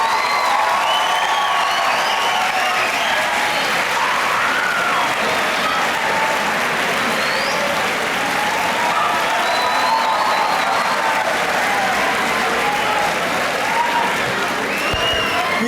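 A large audience in a Pasadena City College auditorium applauds an author's introduction with a loud, dense, steady wash of clapping that holds evenly for the whole stretch.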